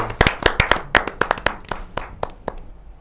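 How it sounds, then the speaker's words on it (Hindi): Enthusiastic applause from the audience at a Hindi kavi sammelan poetry gathering, a burst of sharp overlapping claps that peaks early and gradually thins out over about three seconds, with no voices. "जोरदार ताली के साथ।"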